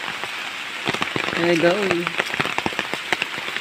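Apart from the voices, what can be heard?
heavy typhoon rain pouring down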